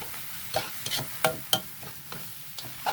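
Shredded chayote, carrot and cabbage stir-fried with glass noodles in a wok, quiet background frying beneath a series of sharp spatula clacks and scrapes at irregular intervals, close and fairly soft.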